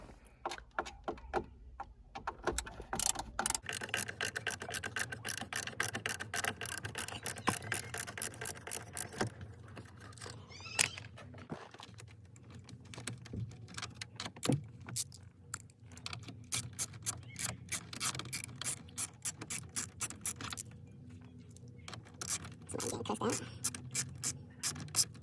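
A ratchet wrench clicks in rapid bursts while it backs out 7mm bolts holding the radio in a 1998-2004 Camaro or Firebird. The clicking is close, with short pauses and faint handling noise in between.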